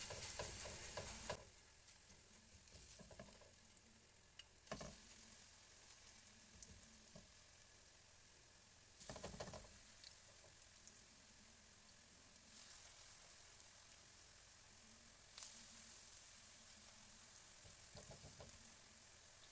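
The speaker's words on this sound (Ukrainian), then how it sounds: "І смажимо з двох сторін до золотистості" Cabbage fritters crackle and sizzle steadily in a hot pan, with a few louder scraping bursts from turning or spooning; quiet, close, no talking.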